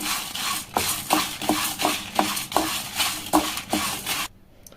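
Byadgi red chillies and toor dal dry-roast in a pan, stirred in a steady rhythm of scraping strokes about twice a second, close and fairly loud, ending abruptly in near silence.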